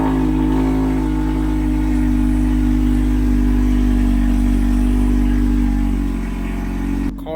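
A 2022 Toyota Camry engine running at a steady, loud idle with a deep, even hum that holds constant and drops off abruptly at the very end.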